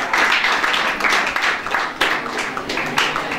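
An audience at a Gurukul kirtan gathering claps for a student, a dense, lively burst of applause that ebbs and swells for a few seconds.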